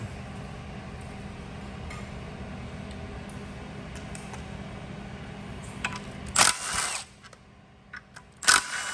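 An oil pump is unbolted from a Hyundai Genesis Coupe 3.8 engine during teardown: faint ticks of hand tools, then two short, louder rattling bursts near the end, with no talking.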